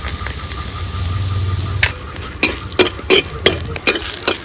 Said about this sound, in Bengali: তো তরকা দেওয়ার জন্য দিয়ে দেবো একটু ঘি, এবার দিয়ে দেবো শুকনো লঙ্কা, জিরে, লঙ্কার গুঁড়ি